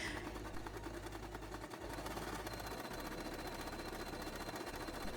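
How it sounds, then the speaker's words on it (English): A sewing machine runs steadily through a triple stretch stitch, its needle working back and forth in a fast continuous mechanical whir with a low motor hum, close and loud throughout. "This is a triple stretch stitch, which means the needle goes back and forth a few times to make the stitch stretchy."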